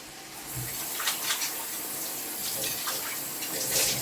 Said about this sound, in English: I'm just going to put a little bit more water